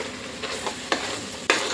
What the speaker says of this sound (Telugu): 2 స్పూన్లు కారం వేసి కలుపుకోవాలండి